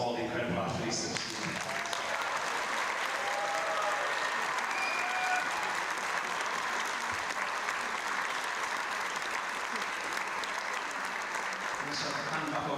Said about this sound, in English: I just want to give us all a huge round of applause to all the incredible athletes